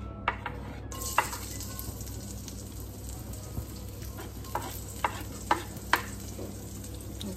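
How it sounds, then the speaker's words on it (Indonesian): Shallots and garlic sizzle in hot oil for nasi goreng, a steady frying hiss with sharp clicks of a spatula scraping the pan now and then, close and fairly quiet. "sekarang masak nasi gorengnya. Masukin dulu bawang merah sama bawang putih ya"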